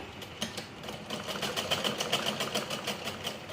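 A sewing machine runs a double stitch on blouse strips with a fast, even mechanical chatter of needle strokes, fairly quiet and close, and no talking.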